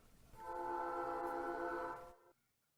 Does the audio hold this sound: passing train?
yes